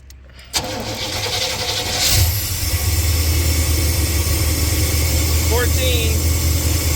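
A 1989 Chevrolet G20 van engine cranks and catches after an alternator replacement, then settles into a steady, fairly loud idle rumble that continues to the end, with faint background noise.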